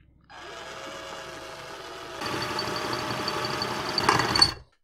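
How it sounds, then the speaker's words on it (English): A power drill whirs steadily for a few seconds while drilling a hole in a motorcycle, its pitch rising and growing harsher midway as it bites in, then cutting off abruptly. "Let's start drilling."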